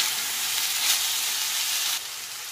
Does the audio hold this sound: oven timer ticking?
no